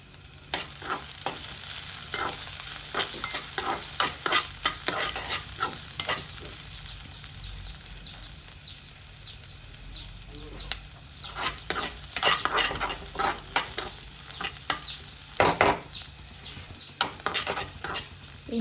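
Leafy greens being sautéed and stirred in a frying pan, with a steady sizzle and repeated scraping stirs of a spatula against the pan, close up and with no talking.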